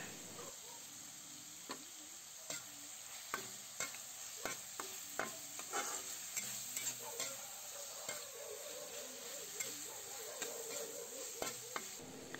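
Dried anchovies stirred in a pan with soy sauce and oyster sauce, a soft steady sizzle punctuated by repeated light scraping taps of the spatula at an uneven rhythm, no voices.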